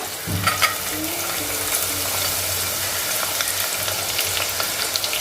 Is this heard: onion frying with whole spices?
yes